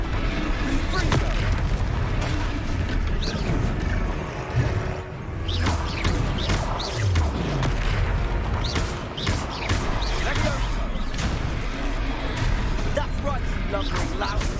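Confringo fire spells bursting in combat in Hogwarts Legacy, a string of booming blasts and impacts over constant game music and effects, dense and loud throughout.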